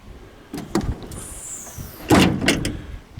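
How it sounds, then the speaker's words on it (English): A Ford F150 pickup tailgate drops open with a loud metallic clunk and rattle, preceded by a few lighter clicks and a brief mechanical whine, heard close with no talking. "Dropping the tailgate."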